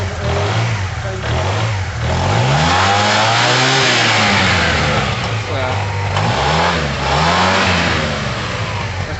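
A Yamaha TMAX 500 scooter engine runs loudly as it warms up, its note swelling and dipping through several revs over a steady drone. Occasional talk sits underneath.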